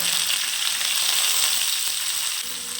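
Cumin and curry leaves sizzling in hot oil for a tempering, a loud, close, steady crackling hiss that eases slightly near the end.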